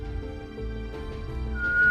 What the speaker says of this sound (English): Let us try the whistle.